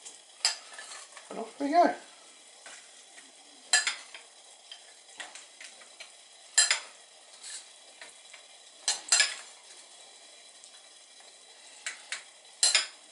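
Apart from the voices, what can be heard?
stirring bird fat snack feeder mix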